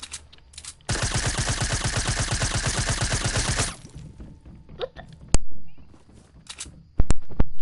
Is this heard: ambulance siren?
no